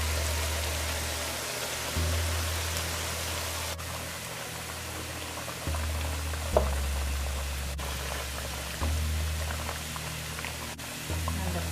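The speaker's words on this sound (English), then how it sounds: "Now that most of the coconut milk evaporated, I am going to leave the lid off and continue cooking" Fish curry in coconut milk simmers uncovered in a pot, giving a steady soft bubbling hiss with a low hum beneath, continuous and even throughout with no talking.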